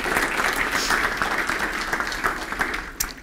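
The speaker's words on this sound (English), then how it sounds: "Please give them an applause." Applause from a conference audience for the translators, dense steady clapping that holds for a few seconds and then starts to thin.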